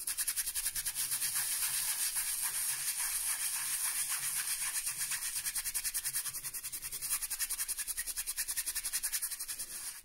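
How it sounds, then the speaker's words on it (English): Steady, continuous bristle scrubbing from a medium-firmness Firma toothbrush worked over the faces and edges of a Paulson clay poker chip, close and unbroken for the whole stretch, with no talking. "this Firma toothbrush is doing a much better job and doesn't seem to be doing any damage to the chip"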